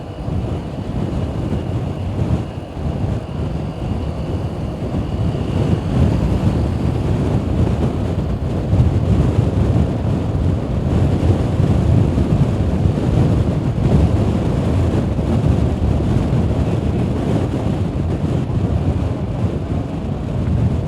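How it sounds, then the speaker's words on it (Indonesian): Strong wind buffeting the microphone while riding a motorcycle on a morning ride, a loud continuous low roar with gusty surges that fill the whole stretch, no voices. "Angin kenceng banget"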